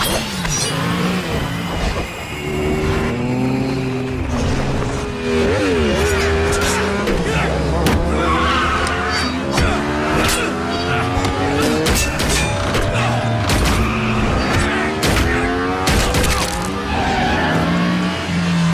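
A film chase scene with motorcycles and a car roars with loud revving engines, squealing tires, skids and sharp crash impacts scattered throughout, dense and busy the whole way through.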